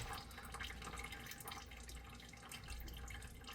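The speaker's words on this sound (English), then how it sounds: "I'm gonna back it off a little bit, let it drain out some" Engine oil drains and drips from a partly loosened oil filter on a Ford F-150 with a 5.0L V8, a steady close trickle of liquid with soft irregular drips and no talking.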